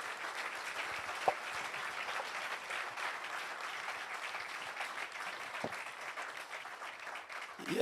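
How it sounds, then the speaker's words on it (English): A congregation at a sabbath class in Austin claps its hands in steady, dense applause that fills the room evenly, with a couple of brief louder knocks standing out and no clear voices on top. "Clap your hand for yourself."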